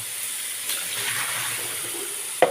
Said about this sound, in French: On va prendre de l'eau chaude du robinet.